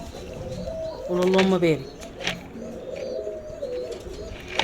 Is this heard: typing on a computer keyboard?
no